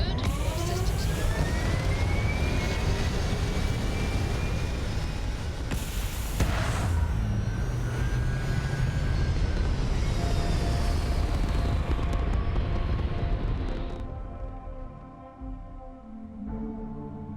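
Loud, sustained roar of a spaceship lifting off in the game Starfield, a dense rumble with rising whines and booms that fades after about fourteen seconds into a quieter hum with scattered tones.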